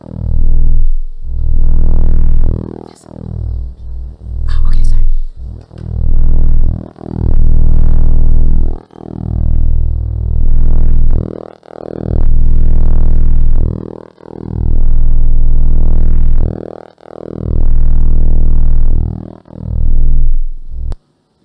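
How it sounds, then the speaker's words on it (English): A sonified recording of the induced magnetic field on one of Jupiter's moons, heard as loud, deep, rolling tones that swell and fall in repeated pulses, with whooshing sweeps throughout. "This is the sound of the induced magnetic field on this moon."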